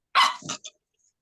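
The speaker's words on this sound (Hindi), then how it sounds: "कुत्ता भौंक रहा है" A dog lets out a quick close bark followed by a shorter yip, sharp and loud against an otherwise silent background.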